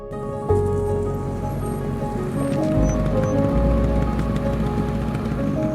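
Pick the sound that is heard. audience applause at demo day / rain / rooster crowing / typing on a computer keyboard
rain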